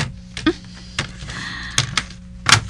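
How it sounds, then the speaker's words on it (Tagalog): A drawer is pulled open in a dramatized scene, heard as a few short knocks and wooden thumps spaced over a couple of seconds, fairly close and clear. "Aring drawer, buksan ko."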